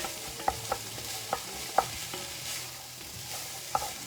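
Pasta fagioli ingredients are stirred into a sizzling pot, a soft steady frying hiss with a few sharp spoon knocks against the pot rim, faint and close, without speech.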